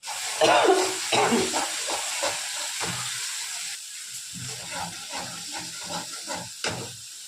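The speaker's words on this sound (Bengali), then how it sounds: "আগে মশলাটা কষিয়ে নিই, তারপর দেখাচ্ছি।" A spice paste of onion and ginger fries in a pan, giving a soft hiss under intermittent stirring and scraping taps, with a brief louder sizzle at the start.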